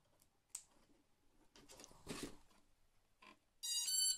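A short burst of rapid electronic beeps from a quadcopter control board (HK v2.1) at the very end, loud and bright, following a few faint clicks and rustles.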